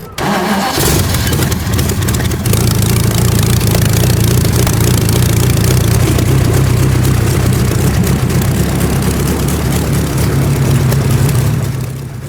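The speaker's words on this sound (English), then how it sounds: "I have to take the plugs out to crank the engine over" A race engine spun over by its starter with the spark plugs removed, making a loud, steady mechanical cranking drone that runs unbroken for about eleven seconds after a short pause, with no voices.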